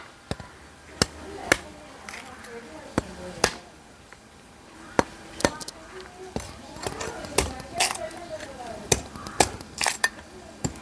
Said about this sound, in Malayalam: അപ്പോൾ കരിക്ക് ഞാൻ ഒന്ന് വെട്ടി നോക്കുകയാണേ